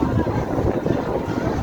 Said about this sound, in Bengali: বাতাস আছে ভালো।